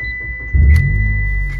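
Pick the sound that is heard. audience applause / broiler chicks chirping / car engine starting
car engine starting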